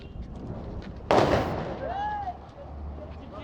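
A sharp, close Diwali firecracker bang in Chennai cuts through quiet background, followed by a short fading hiss and a faint whistling tone.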